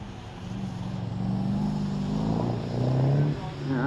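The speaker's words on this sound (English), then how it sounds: "Twin turbo, big stretch rover V8. All in a car with about the shortest wheelbase you could dream of." A short-wheelbase hillclimb race car powered by a twin-turbo stretched Rover V8 roars past at the Loton Park British Hillclimb Championship, its engine note climbing and swelling louder toward the end, with a commentator talking over it.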